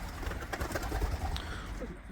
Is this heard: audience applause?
no